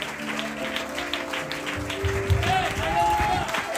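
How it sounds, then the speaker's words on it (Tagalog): A church congregation breaks into applause for the Lord, many hands clapping over a sustained musical tone and low instrumental backing, with a voice briefly audible. "Malakas na palakpak para sa ating buhay na Panginoong Jesucristo."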